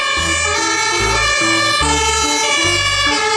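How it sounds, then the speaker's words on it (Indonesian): A toy fire engine siren plays loud and continuous, its pulsing, repeating electronic wail filling the whole stretch with no talk over it. "Di sini ada mobil pemadam kebakaran."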